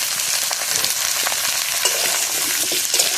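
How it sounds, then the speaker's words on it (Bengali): Potato pieces frying with onions in a hot pan give a dense, steady, close sizzle with faint stirring scrapes throughout, no talking. "আলু আর পেঁয়াজ একসাথে ভালোভাবে ভেজে নেবো"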